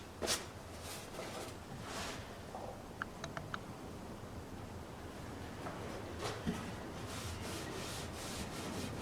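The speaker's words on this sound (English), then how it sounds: "Now for the finish I use unboiled linseed oil, a rag, and a little squirt of this stuff." A rag rubbing unboiled linseed oil onto a wooden hammer, soft repeated wiping strokes close by with a few small ticks, quiet and without speech.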